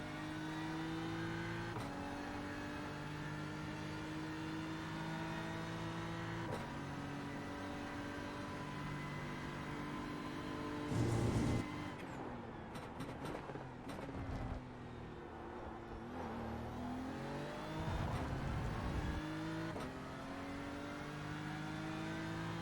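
BMW M4 GT3 race car lapping Red Bull Ring in a racing video game, the engine droning and shifting through gears with rising and falling revs, plus brief bursts of tyre and kerb noise.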